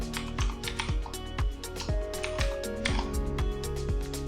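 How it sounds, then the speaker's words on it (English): Someone types a worker name on a computer keyboard, a steady close run of clicky keystrokes with an irregular rhythm and a low hum underneath. "type your worker name."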